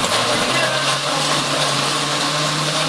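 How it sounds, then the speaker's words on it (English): A blender whirs through homemade salsa ingredients in a kitchen, a loud, continuous motor drone with a faintly shifting pitch that fills the entire moment without pause. "see the beautiful colors getting blended there"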